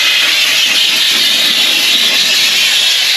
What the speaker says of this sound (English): Now, a little bit of compressed air.